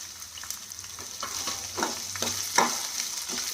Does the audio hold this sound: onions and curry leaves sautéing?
yes